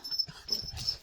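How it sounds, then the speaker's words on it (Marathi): A dog on a village farm gives a few short, close barks and yelps in quick succession, with brief pauses between them. "का भुंकतोय?"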